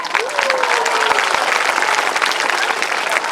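Government-school children clap loudly together in a classroom, a dense continuous patter of many hands that holds steady for a few seconds with a faint crowd murmur underneath.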